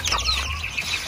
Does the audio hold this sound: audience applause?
no